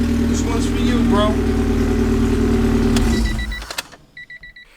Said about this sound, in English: The car is on, man.